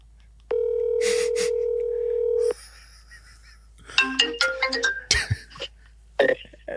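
A phone call rings through a van's Bluetooth system as a steady electronic tone, followed by a quick run of beeping tones and some throat noise.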